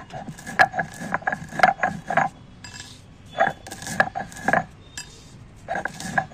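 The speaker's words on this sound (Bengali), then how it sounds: "ভাজা মশলাগুলো শিলে পিষে নিচ্ছি" Roasted spices for an amla pickle are ground by hand on a stone slab, with rhythmic clacking and scraping strokes coming in quick bursts separated by short pauses, close and fairly clear.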